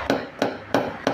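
Four sharp, evenly spaced metal taps from a small hammer working a dent in the fender of a Kwid during paintless dent repair, close and clear with short gaps and no talking.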